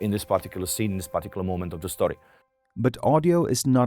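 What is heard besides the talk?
No distinct noise like a dog, phone or traffic.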